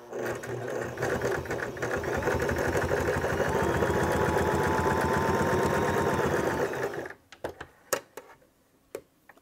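A mechanical domestic heavy-duty sewing machine, model 1522, stitches synthetic leather in a loud, steady, close run of about seven seconds, then stops, followed by scattered clicks and handling knocks.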